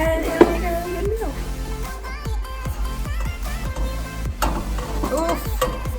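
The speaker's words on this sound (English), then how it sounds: "all you have to do is mix your pasta and your sauce and vegetables and shrimp together" A spoon stirs shrimp, broccoli and pasta with sauce in a pan, steady scraping and soft sizzling under a continuous hum, while someone talks over it.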